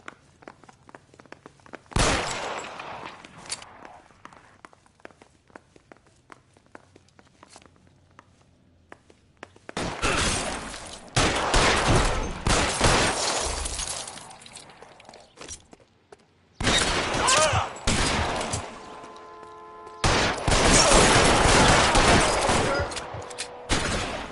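Bursts of gunfire in a shootout in the video game L.A. Noire: rapid, dense volleys of close, loud shots in several long bursts, separated by quieter stretches of scattered footsteps and clatter.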